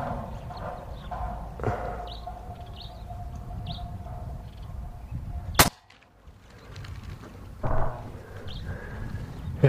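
A Reximex Accura PCP air rifle fires a single sharp, loud crack while hunting outdoors, standing out from a steady background of birdsong and low rumble and followed by a brief hush.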